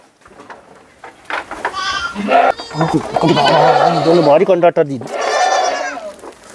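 Goats on a goat farm bleat repeatedly in a wavering, nasal way, close and fairly loud, mixed in with people chatting nearby.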